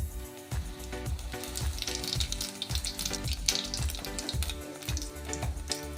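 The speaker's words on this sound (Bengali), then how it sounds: "তেল গরম হয়ে গেছে, এবার দেবো একটা ফোড়ন" Two dried red chilies and ajwain seeds temper in hot mustard oil with a soft, continuous sizzle. It sits under a louder rhythmic background with a regular thumping beat and sustained tones.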